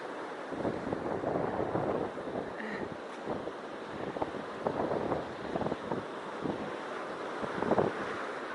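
Large stormy sea waves breaking on the shore at Zelenogradsk, a continuous rumbling surf with surging swells, heavy wind buffeting the microphone throughout, no voices.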